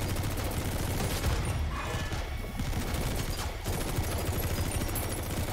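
Sustained gunfire in the stealth action game Metal Gear Solid V, a dense continuous barrage of shots filling the whole stretch with no speech over it.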